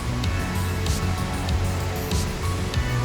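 A waterfall in a gorge produces a constant, full rush of falling water, loud and close, with no voices over it.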